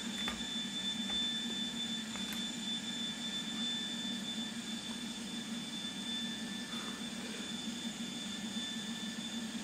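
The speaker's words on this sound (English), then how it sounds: "All you can hear is the sound of the engines" Aircraft engines, likely jet engines, on a plane converted into a limousine: a continuous steady drone with a faint high whine, even and unbroken throughout, heard from inside at moderate distance with no voices.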